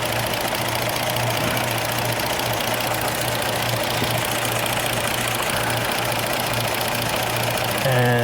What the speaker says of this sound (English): And this engine is getting very hot now.